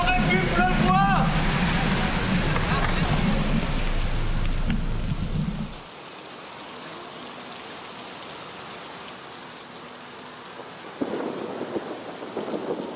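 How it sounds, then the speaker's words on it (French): Heavy rain and rumbling thunder in the mountains of the Mercantour near Tende. At first a loud, dense downpour with a deep rolling roar, then it drops to a softer steady patter, and a fresh burst of rain swells near the end. "Que 2 km, forcément il pleut."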